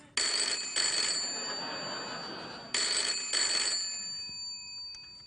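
A studio telephone rings twice with a classic bell-like double ring, each ring made of two quick bursts, loud and up front, with a gap between them and no talking.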